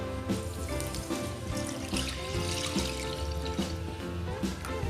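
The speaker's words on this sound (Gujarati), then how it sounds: "હવે કડાઈની અંદર આપણે ફૂલ ફેટ દૂધ નાખીશું" Full fat milk pours steadily into a kadai while a Gujarati doodhpaak sweet is being made, a continuous soft liquid rush with faint clinks over low background noise and no talking.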